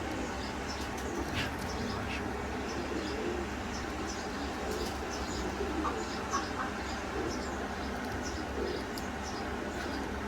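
Teddy pigeons, a paired show breed, coo softly and steadily against a constant low background hum, with faint scattered chirps and no voices over them.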